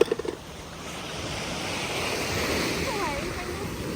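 Ocean waves splash and wash steadily at the seashore in the evening, a continuous broadband surf roar with wind noise, preceded by a few brief voice bursts at the start.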